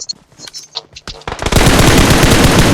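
Gunfire in the mobile battle royale game PUBG Mobile: scattered single shots at first, then a sustained loud burst of rapid automatic fire that fills the second half.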